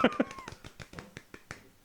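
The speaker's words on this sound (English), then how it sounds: "Give a golf clap for Johnny." Soft, polite golf clapping from a few people on a music livestream: a light, steady run of quiet claps under a brief voice at the start.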